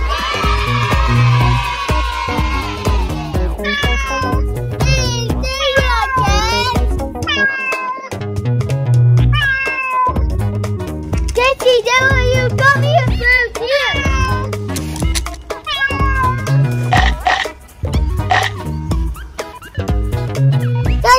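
A cat meows loudly and repeatedly up close, drawn-out wavering cries coming in quick succession over rhythmic background music.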